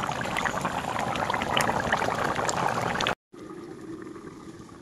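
Fish curry with fried fish pieces bubbling in a pot in a village kitchen, a loud continuous simmering and bubbling that cuts off and resumes more quietly.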